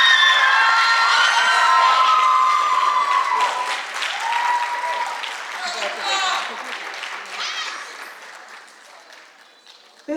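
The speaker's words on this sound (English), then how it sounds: "Please give him another round of applause." A school audience at an 8th grade graduation claps and cheers loudly after an orchestra performance, with children's shouts and whoops on top; the noise gradually dies down over about ten seconds.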